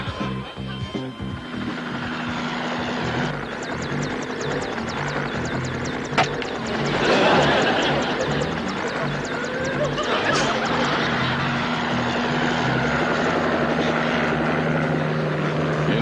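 A helicopter's rotor beats in a fast, steady thump with engine whine, loud and close, continuing throughout with brief sharp bangs midway.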